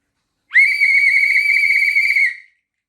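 A single loud, shrill blast from a large 3D-printed whistle holds steady for about two seconds and then cuts off, with silence around it.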